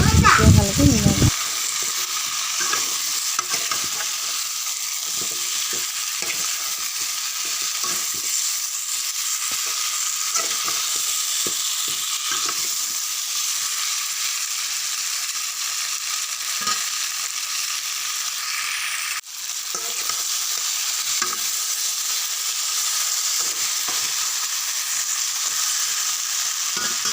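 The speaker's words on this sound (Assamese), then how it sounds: "আলু দি দিছোঁ এয়া, এতিয়া ভালকৈ মিলাই লওঁ।" Potatoes are stirred into goat meat curry frying in a pan, giving a steady, close sizzle with scraping stir noises throughout, after a brief louder clatter at the start.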